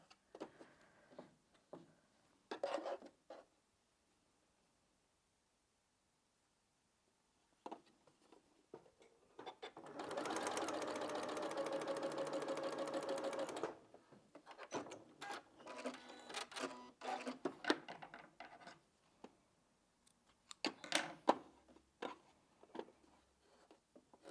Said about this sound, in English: Now I'm going to sew this from this side so I can see what the seams are doing.